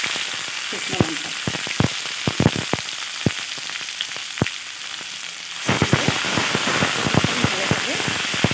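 Cumin, dry red chilli and ginger-cumin paste frying in oil, a crackling, popping sizzle with sharp spits, growing louder and denser partway through as the paste goes in.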